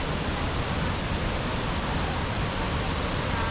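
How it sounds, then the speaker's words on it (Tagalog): A waterfall roars as a dense, even, broadband rush, close and constant throughout with no other sounds standing out. "So ito yung waterfalls guys."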